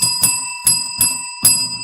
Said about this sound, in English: Please ring the bell for myself.